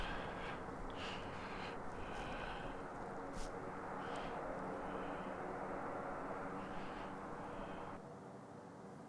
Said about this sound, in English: A lot of noise for a little plane.